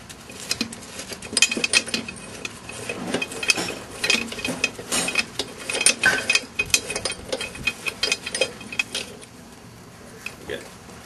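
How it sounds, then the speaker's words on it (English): A ratchet clicks in quick repeated bursts while loosening the bolt that holds a street-type lawn mower blade, with metallic jangling and a voice talking in between. "So now we're able to remove this bolt here so that we can take the blade off, and Dale's going to give it a buffing"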